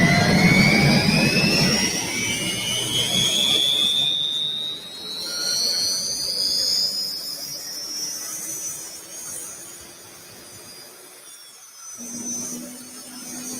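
A T-55 turbine engine of the kind used in Chinook helicopters spools up with a loud, rising jet whine and several climbing whistling tones over a rushing roar. The roar eases off, then a lower steady tone settles in near the end.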